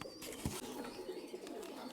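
Soft, low pigeon cooing repeats in the background amid outdoor ambience, with a brief flutter-like rustle near the start.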